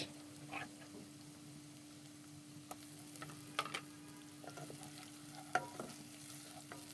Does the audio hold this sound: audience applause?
no